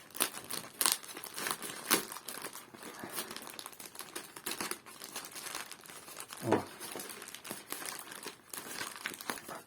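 Packaging from an AliExpress parcel holding a 2000W pure sine wave inverter is being opened, with dense, close crinkling and rustling of plastic wrap, a few sharper crackles and tearing bursts, and no talking.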